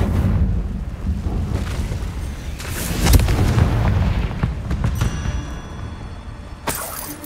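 A Confringo fire-blast spell in Hogwarts Legacy lets off a heavy, booming burst around the middle, set against a dense, rumbling game soundscape of crackles and impacts, with a sharper hit near the end.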